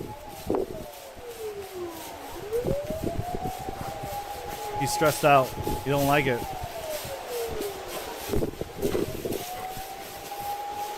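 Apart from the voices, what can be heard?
fire truck siren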